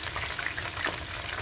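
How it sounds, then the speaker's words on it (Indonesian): Cheese spring rolls fry in hot oil with a dense, steady sizzle and crackle, heard up close. "Sekarang kita goreng pink roll cheese ya."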